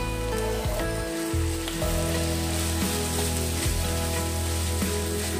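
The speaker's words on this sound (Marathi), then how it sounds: "आता आपल्याला याच्यामध्ये बटाटो घालायचा आहे मॅश केलेला।" Mashed potato with coriander fries and gets mixed in a pan, giving a loud, continuous sizzle with low scraping strokes of the spatula repeating every second or so.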